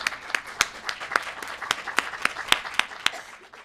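An audience applauds author Madeline Miller at the 2012 Gaithersburg Book Festival, a modest room of claps with sharp individual hand strikes standing out, steady and fairly close throughout.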